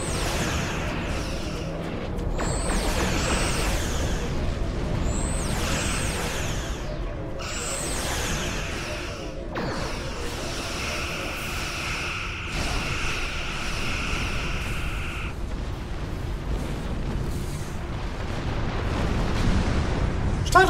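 Phaser fire and explosions from a space battle against a Klingon battlecruiser in the game Star Trek Online: repeated whooshing energy bursts and rumbling blasts over a dense, loud battle soundscape lasting throughout.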